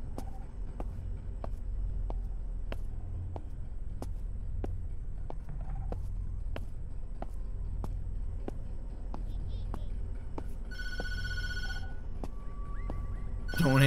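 Telephone in the Tattletail video game rings once near the end as a bright electronic trill, after a long stretch of steady rhythmic ticking over a low rumbling ambience.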